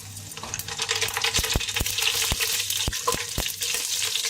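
Shahi jeera spices crackle and sizzle in well-heated oil, about a quarter kilo, at the start of a biryani base. A steady frying hiss runs throughout, with sharp pops and spits landing every few tenths of a second.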